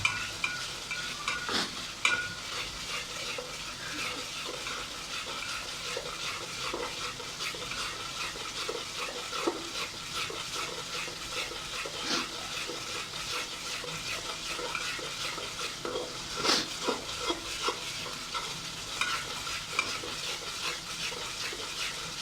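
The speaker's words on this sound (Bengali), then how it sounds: "ভালো করে কষিয়ে নিচ্ছি, অবশ্যই ভালো করে কষিয়ে নিতে হবে।" Curry being stir-fried in a pan, giving a long, continuous sizzle with a constant scraping and stirring rhythm, heard close up at low to moderate level with no speech.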